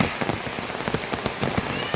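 Steady rain falls in a tribal village, a dense, close patter of drops striking surfaces without pause.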